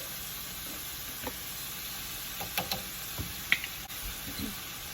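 Chopped garlic and ginger sizzle in a pan while a beef and broccoli cauliflower rice bowl is being prepared. A faint, steady hiss runs throughout, with scattered soft crackles and pops close by.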